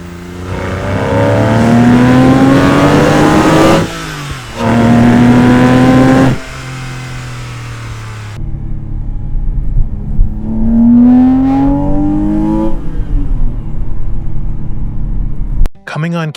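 Porsche 997 flat-six fitted with a cold air intake revving hard at full throttle, rising engine notes climbing in repeated pulls with a gear-change gap, loud and close, ending in a brief cut.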